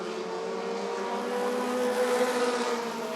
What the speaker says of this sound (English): Stoltz in the 55 trying to catch David Russell.